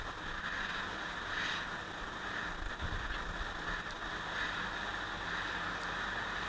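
A hot air blower heating a Poco X3 Pro phone board to soften the adhesive between the RAM and CPU: a constant, even airy hiss with a faint steady whine, quiet and unbroken.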